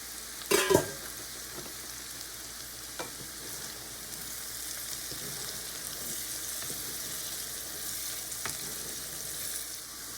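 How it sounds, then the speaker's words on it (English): Bacon, onions and peppers fry on a Weber kettle charcoal grill with a steady, soft crackling sizzle, opening with a brief louder clatter before settling into a constant quiet hiss. "All right, our bacon's rendering down. It's getting crispy."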